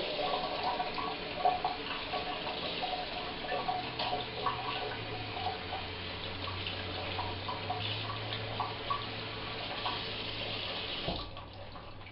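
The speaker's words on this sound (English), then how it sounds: "Quickly just wash my hands off because it's easier than taking off the gloves." Hands are rinsed under a steadily running kitchen tap, giving a continuous close splashing rush that stops shortly before the end.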